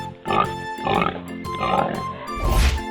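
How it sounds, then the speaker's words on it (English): A pig in a 3D animal video game oinks and grunts in about four quick snorting bursts, close and clear, the last one deeper and louder. "pig,"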